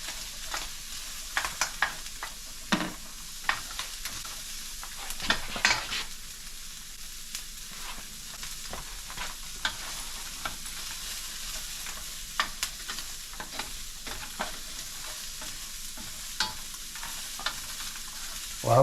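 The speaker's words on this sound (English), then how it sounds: "we're going to semi-caramelize that in the same pan that we just did the venison." Chopped onion sizzling in a pan still coated from cooking venison for chili, a steady low frying hiss broken by scattered scrapes and clicks of stirring, alone with no talk.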